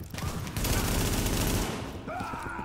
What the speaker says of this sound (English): Reporting gunfire in the station